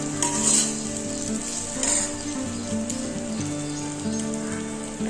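Potato capsicum rice being mixed in a hot pan, with a steady close sizzle and soft scraping under a faint background hum, no talking.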